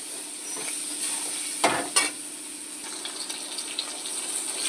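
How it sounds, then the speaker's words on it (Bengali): Lata fish seasoned with salt and turmeric fries in a pan with a continuous close sizzle, broken by a couple of sharp scraping stirs near the middle. "এটাকে একটু সুন্দর করে ভাজবো একটু কষিয়ে নেব"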